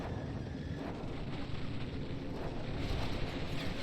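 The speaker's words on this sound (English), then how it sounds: "Oh, that's an explosion." An explosion in the video game Chromehounds, a loud, sustained low rumbling roar that fills the whole short stretch with no distinct sharp blast.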